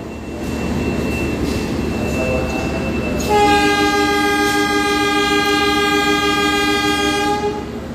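A train rolls into Semarang Tawang station in Indonesia, with a steady rumble of wheels on track before a long, loud multi-tone horn blast sounds for several seconds over the running noise.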